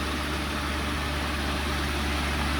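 A cab tractor's engine idles on a farm on a rainy day, a steady low rumble and vibration that holds constant throughout, heard alone without talk.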